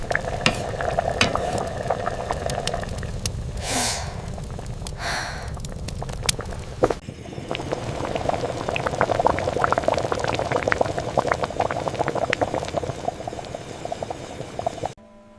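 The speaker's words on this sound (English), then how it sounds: "A hand gently stirs the simmering soup. Bubbles form." Steady bubbling of a simmering pot with soft liquid stirring sounds, continuous and close, with a brief clatter partway through.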